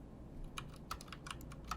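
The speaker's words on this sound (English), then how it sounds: "I'll let you hear a regular Cherry MX Brown switch keyboard." Typing on a Cherry MX Brown switch keyboard, an MK Night Typist: a quick series of light, close key clicks in an irregular rhythm over a low steady background hum, no talking.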